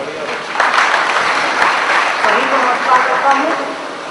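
Audience applause at a Hindi kavi sammelan poetry recital, loud sustained clapping from a large crowd running throughout, with a brief voice or cheer mixed in.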